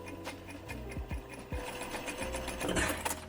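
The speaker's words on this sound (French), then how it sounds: "Là je fais ma couture juste au bord du liseré blanc" Close up, a sewing machine stitches a seam along the white selvedge edge of jeans, with a rapid mechanical chatter and a few short stops and restarts.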